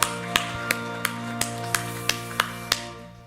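Congregation at a Korean church worship service clapping together in a steady, evenly spaced beat, about three claps per second, over sustained keyboard chords that ring underneath.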